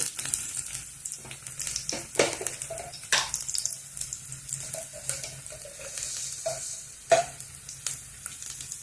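Garlic frying in hot oil gives a steady close sizzle and crackle, joined by occasional soft clinks and stirring scrapes, with no talking.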